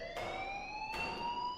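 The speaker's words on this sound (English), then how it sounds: "please turn off that alarm since that's your job." A rising, steady electronic alarm tone sounds continuously in Life is Strange, loud and near, with a couple of brief noise bursts cutting through and no speech.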